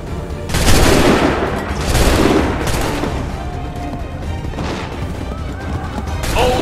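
Musket volley gunfire in the video game Assassin's Creed 3: a loud burst of crackling shots with a few more rough blasts following, set against steady battle din and voices.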